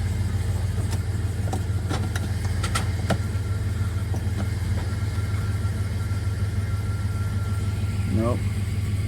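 A 2000 Dodge Durango engine idles smoothly and steadily throughout, a low continuous hum with a few faint clicks and a brief chirp near the end.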